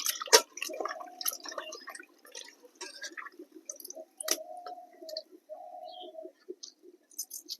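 Soaked jujube berries washed in water make soft splashes and drips with a few light clinks, quiet and intermittent, with no voices.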